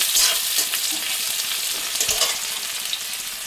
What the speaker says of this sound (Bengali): পেঁয়াজগুলো একটু ভেজে নিতে হবে